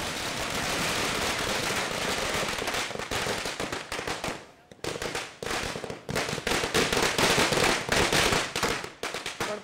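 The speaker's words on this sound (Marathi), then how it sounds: "आपण पाहतोय कुठे फटाके फोडले जातात" Firecrackers burst in dense, rapid volleys during a street celebration in Badlapur, loud and continuous crackling salvos with a brief lull midway before the barrage resumes, overwhelming any background voices.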